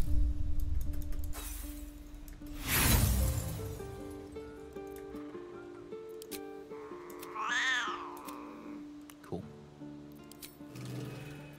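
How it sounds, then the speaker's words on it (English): A cat meows in the fantasy role-playing game Baldur's Gate 3, one clear mid-range yowl early on, set against a steady game music bed with a brief chiming flourish later. "Well, your cat."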